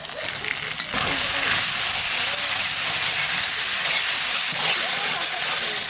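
Ginger paste and spices dropped into hot oil, bursting into a loud, steady sizzle close up after a quieter opening second.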